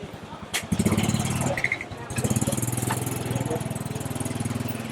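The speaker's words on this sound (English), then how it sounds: "gotta watch out for the bikes" Motorbike engines buzz past up close on Train Street in Old Hanoi, one rising and falling pass after another with a steady idling putter between them, and faint street noise behind.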